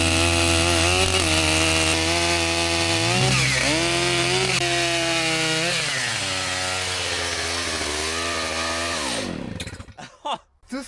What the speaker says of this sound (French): j'ai pris que la tronçonneuse électrique